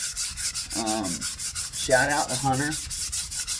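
A wooden charcuterie board being hand-sanded gives a steady run of rhythmic back-and-forth scrubbing strokes, close and even, while someone talks over it.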